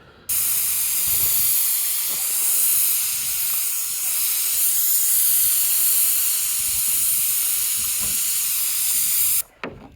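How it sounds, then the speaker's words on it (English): A steady, loud hiss of a paint sprayer coating house siding runs almost nonstop for about nine seconds, then cuts off abruptly near the end. "Let me see if I can get in here, do video and spray."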